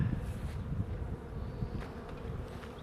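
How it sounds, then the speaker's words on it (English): A low, steady buzz of many honeybees swarming close around an open hive, continuous and fairly quiet, with no voices. "I've got hundreds of bees on me."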